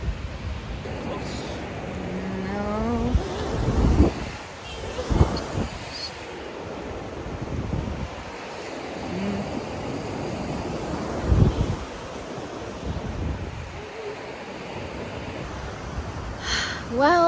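Surf rolls and wind buffets a microphone on the beach at North Myrtle Beach, South Carolina, with swelling wave washes and gusty rumble throughout; a few faint voice-like tones drift in early on.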